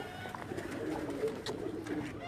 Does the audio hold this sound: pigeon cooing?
yes